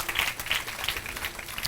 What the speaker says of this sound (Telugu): ఏది మరొకసారి చప్పట్లు కొడదాం అందరూ